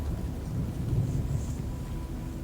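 Low, rolling thunder rumbles steadily through a stormy scene in the video game Oknytt, heavy and continuous, with a faint hiss of rain or wind above it and no voices.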